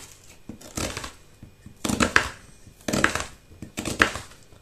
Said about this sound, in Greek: Και θα συνεχίσουμε με 2 μεγάλα κρεμμύδια ή 3 μέτρια, τα οποία και αυτά θα κόψουμε